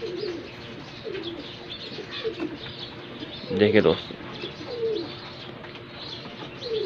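Punjabi pigeons coo softly and repeatedly at close range, with a brief flutter of louder calls midway, while someone talks over them.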